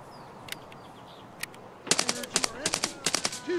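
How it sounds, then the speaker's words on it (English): Rounds being packed into a magazine in the video game Escape from Tarkov: a few isolated clicks, then a quick run of close, crisp metallic clicks in an irregular rhythm over quiet background hiss. "packing a mag."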